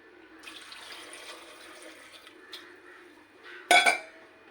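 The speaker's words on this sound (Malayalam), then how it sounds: "നമുക്ക് വെള്ളം ഊറ്റാം." Water drained from a pot of vegetables for a lentil-free sambar: a soft, steady pour runs for about two seconds, then a sharp, loud metallic clank of the pot, with no speech.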